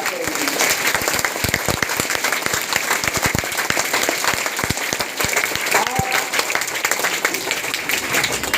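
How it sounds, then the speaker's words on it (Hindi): Sustained, dense clapping from a crowd of schoolchildren welcoming classmates at a school event, loud and continuous throughout with sharp individual claps standing out. "खूब तालियों से स्वागत कर रहा है।"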